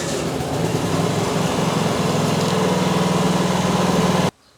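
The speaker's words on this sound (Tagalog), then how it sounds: "Testing naman po natin yung pangalawang generator ninyo." A 5,500 generator being test-run, its engine droning steadily and loudly up close with an even hum before cutting off abruptly near the end.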